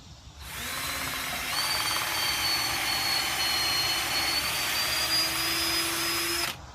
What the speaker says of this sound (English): I'm going to put some screws in here.